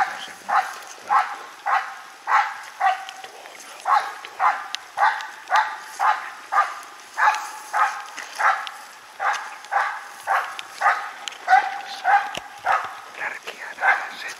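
A Finnish Spitz barks in morning rain outdoors, a long regular series of single sharp barks about every half second to second, fairly close and loud against a quiet background.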